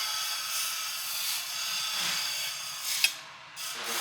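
Ratchet clicking steadily while tightening bolts onto a cylinder head flange of a C8 Corvette drift car engine, a rapid close train of clicks with a sharp knock near the end.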